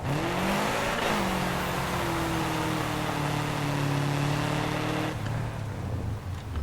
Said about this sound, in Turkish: Arabanın sesi çok hoş.